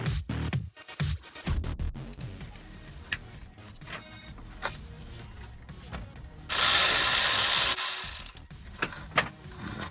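A ratchet with an E12 Torx socket on an extension backs out a screw on a Mercedes-Benz E350 flex-fuel engine, ticking in quick close bursts, with a louder steady hiss for a second or so near the end.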